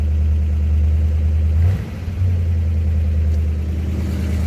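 A 1956 Ford Fairlane Victoria's engine idles with a deep, steady low rumble close by, dipping briefly as the idle is brought down before settling back into an even hum.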